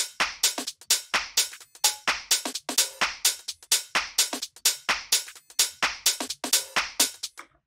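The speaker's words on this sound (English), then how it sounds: "All together, the drums sound like this." Minimal UK house drum loop built in Ableton: crisp hi-hats ticking in a steady groove with a cowbell and a triangle pattern layered over punchy kicks, repeating evenly and loud with no voices.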